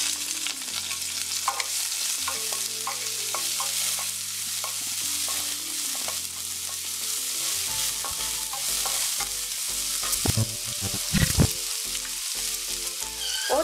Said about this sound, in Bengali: একটু ভালো করে ভেজে নেব এর মধ্যে এক করছি আমরা দুইটা মাথারি সাইজের পেঁয়াজ কুচি